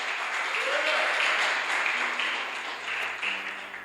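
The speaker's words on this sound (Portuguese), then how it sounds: "pode aplaudir o nome do Senhor" A church congregation applauds in praise during a Portuguese-language service, a steady wash of clapping that swells near the start and carries on evenly to the end, with a faint voice underneath.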